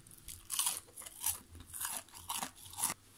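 Close, crisp crunching as someone bites into and chews a fried zucchini and tuna fritter, several sharp crunches in an irregular rhythm with short pauses between, no talking.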